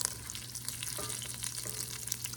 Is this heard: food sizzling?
yes